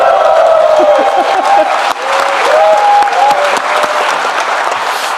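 An audience at a town hall meeting claps in a loud, sustained burst, with scattered cheers and a voice speaking over the applause.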